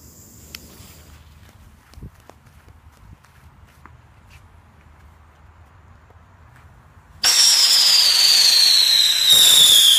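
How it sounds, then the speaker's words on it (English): A Ladybug firework by Forward Fireworks sits quietly at first amid faint outdoor ticks, then erupts abruptly into loud, dense crackling and a high whistling tone that continues to the end. "today we're going to be doing a Ladybug by Forward Fireworks, aka Legend"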